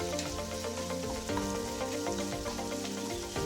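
Chopped onions sautéing in a pan for egg pepper sukka, a steady soft crackling sizzle that carries on evenly throughout with faint stirring clinks and no voices.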